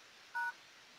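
A single short, clear telephone keypad tone sounds while a code is keyed in on a phone, faint and alone over a soft steady background hiss.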